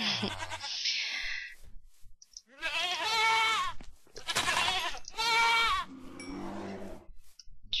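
Several video-game goat bleats in separate bursts, wavering and nasal, with short clicks and quiet gaps between them; no talking.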